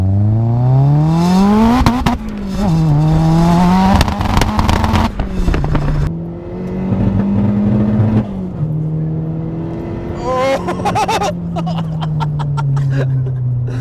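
A 485 bhp Vauxhall Astra VXR revs hard through rising gear pulls, its engine note climbing and dropping loudly and up close for most of the run, with a steady drone near the end as it slows.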